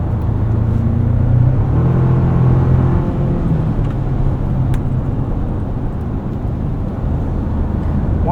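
Low, steady engine rumble from a 2024 Toyota Tacoma Limited with the i-FORCE Max powertrain, driven on back roads, heard from inside the cabin as a smooth, fairly quiet drone with road noise throughout and no talking.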